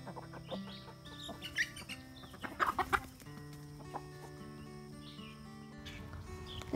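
Backyard chickens cluck near their coop under a big oak tree, scattered soft clucks and short squawks, with a louder burst of calls midway, at moderate distance over a quiet outdoor background.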